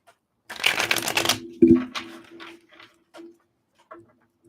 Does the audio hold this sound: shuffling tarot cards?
yes